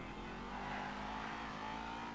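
Car engine from Grand Theft Auto V gameplay, a steady sustained motor drone with tonal whine, held at an even level throughout without pauses.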